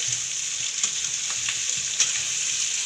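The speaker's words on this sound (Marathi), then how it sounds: "बघा मी आता मिरच्या टाकते आहे, मस्त परतून घ्यायचे।" Capsicum and green chillies frying in a pan for a Maharashtrian peanut-crusted bhaji, a steady close sizzle with light intermittent stirring scrapes throughout, no talk.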